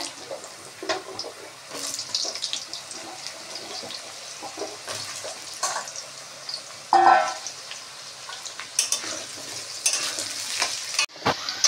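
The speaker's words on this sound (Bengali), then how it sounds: "আলুটা ভাজা হবে।" Potatoes fry in a pan after a five-spice tempering for a pumpkin stem and leaf dish, giving a continuous sizzle broken by repeated stirring scrapes and clatters, with one louder burst near the middle.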